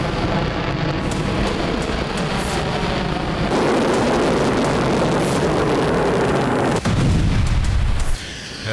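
Hypersonic missile test launch by the United States, a sustained loud roaring rumble throughout with a sharper blast and rising surge near the end, no voices.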